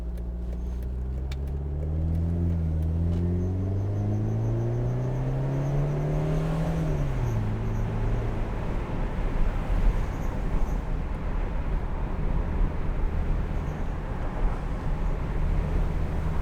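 A Mercedes-Benz SLK200 Kompressor roadster with a 1.8-litre supercharged engine pulls away and accelerates on the road with the roof down, engine note climbing through a gear then settling into steady cruising with wind and road noise.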